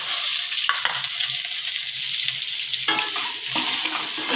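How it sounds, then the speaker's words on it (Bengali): Chopped onions, whole dried red chillies and four bay leaves fry in oil in a pan on low heat, giving a loud, steady sizzle with a few stirring scrapes. "তেলে দিয়ে দিলাম গোটা শুকনো লঙ্কা আর 4টে তেজপাতা, তার সাথে পেঁয়াজ কুচিটা দিয়ে দিচ্ছি।"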